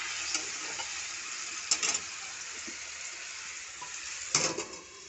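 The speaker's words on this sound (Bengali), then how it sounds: "এখন যা টমেটো সব গরমে ফুটিয়ে একদম চেরির মতো হয়ে যাচ্ছে সেদ্ধ হোক টমেটোটা" Tomatoes cooking in a hot pan for a jackfruit curry, steady sizzling and bubbling with a few short clattering stirs of a utensil against the pan.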